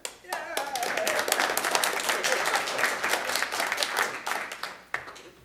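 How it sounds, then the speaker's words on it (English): Audience applause for an assemblywoman coming up to speak at a local community meeting, a burst of many hands clapping that swells quickly, holds for several seconds, then tapers off, with brief talk at the start. "So I got the extra applause"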